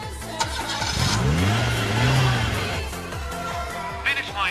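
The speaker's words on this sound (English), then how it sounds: "I can hear the engines getting close." Racing car engines roar and rev as they draw nearer to a finish line, the pitch sweeping up and down, with a faint crowd murmur in the background.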